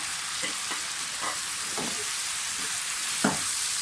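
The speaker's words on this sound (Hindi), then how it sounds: "मसालों के साथ सिर्फ थोड़ा सा इसको भूनना है हमने" Chicken frying with ground spices in a pan for an Afghani gravy, giving a steady sizzle with a few soft stirring scrapes near the start, middle and end.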